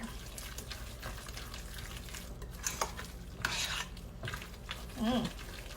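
Egg salad with mayonnaise stirred in a bowl, wet squishy scraping and rubbing strokes coming in irregular bursts, close and moderately loud.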